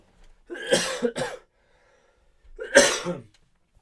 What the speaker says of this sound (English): I'm developing a cough now